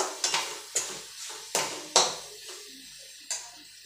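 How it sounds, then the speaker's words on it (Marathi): A spoon stirs mutton masala, chilli powder, homemade spice mix and coriander powder into a mushroom curry in a metal pan, giving a few distinct scraping clinks against the pan with a soft sizzle between them. "पूर्ण मिक्स करून घेऊया बघा हे"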